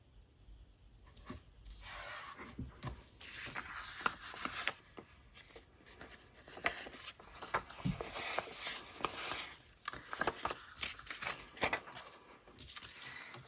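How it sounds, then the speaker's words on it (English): Washi tape is pressed and smoothed onto a scrap of recycled book-page paper, giving soft close rubbing and crinkling rasps in uneven bursts, with short taps and paper handling throughout. "Now let's put a strip of washi."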